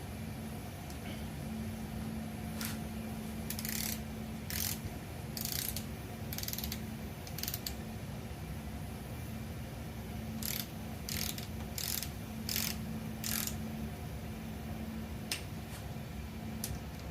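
Ratcheting clicks from a torque wrench tightening rocker arm bolts on an LS V8 engine being swapped into a third-generation Camaro, arriving in short spaced bursts over a steady background hum, with no talking.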